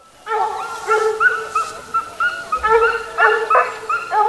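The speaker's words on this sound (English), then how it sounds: "there's that lovely hollow sound again of a Basset speaking" Several Basset hounds bay and howl in deep, hollow overlapping calls, a pack giving tongue continuously outdoors at moderate distance while hunting a rabbit.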